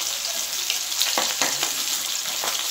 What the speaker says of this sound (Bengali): তো মাছটা আমি ভেজে নিই